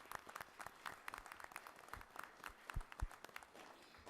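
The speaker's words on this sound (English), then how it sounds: "So just a big round of applause for the employees" Faint, scattered applause from a small gathering at a Board of Education meeting: light, uneven claps from a handful of people, heard from some distance in a quiet room.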